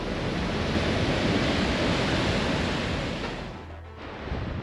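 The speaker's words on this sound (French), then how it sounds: "C'est la plus belle cascade du voyage qu'on ait faite." A huge waterfall pours with a dense, roaring wash of falling water, loud and continuous, easing slightly near the end before surging again.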